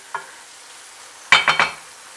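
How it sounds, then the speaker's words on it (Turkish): Peppers roasting in a pan are stirred with a short spoon scrape, then a quick cluster of three or four sizzling, scraping strokes, close and clear with no talking. "Şöyle güzelce bir karıştıralım. Biberler de kavrulsun."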